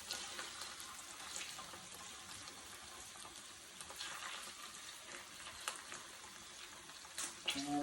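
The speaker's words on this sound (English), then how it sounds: "I'm going to put the skin side down." Salmon fillet frying skin side down in a hot pan, giving a steady, moderately quiet sizzle and crackle that continues without a break, with occasional small pops and spits.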